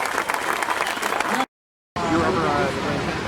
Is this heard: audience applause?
yes